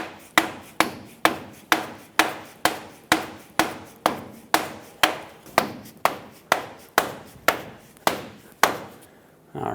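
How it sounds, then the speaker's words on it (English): A rubber mallet strikes a ball joint repeatedly, driving it into the steering knuckle of a 2000-2005 Ford Excursion: about seventeen loud, evenly spaced blows, each a sharp thud, with no talking. "You can also use a rubber mallet on the end of it to help drive it in."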